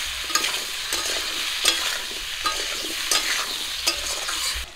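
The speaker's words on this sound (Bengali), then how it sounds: "পেঁপে আর আলু একটু লাল করে ভেজে নিয়েছি।" Papaya and potato pieces fry in a pan in a rural village kitchen, giving a steady close sizzle broken by regular scraping stirs about every three-quarters of a second.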